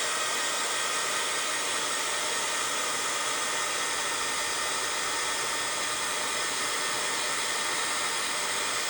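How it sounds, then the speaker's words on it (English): A heat gun blows a steady, loud broadband roar with no pauses while it dries ink on a card, filling all nine seconds, with no speech over it. "I'm going to get my heat gun to, this way it will dry the ink for me"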